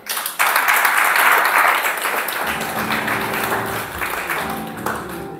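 A church congregation applauding to acclaim Jesus, a loud burst of many hands clapping that fades as music and voices rise underneath.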